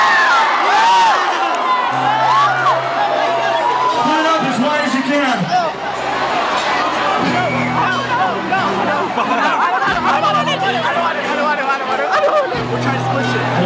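Rock concert crowd at a show during a Wall of Death, loud continuous shouting, whooping and cheering from a dense mass of people, with a voice on the PA cutting through at times.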